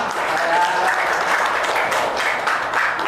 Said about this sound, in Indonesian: Tepuk tangan dulu buat semuanya dong.